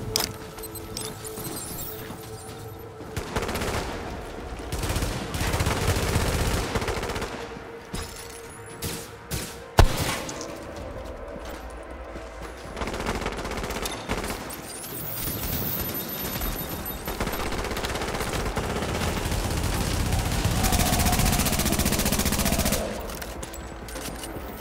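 Enemy gunfire in The Division during the Dragon's Nest incursion: dense automatic bursts and fusillades rattle on for about twenty-five seconds, loud and close, with one sharp crack near the middle and no voices.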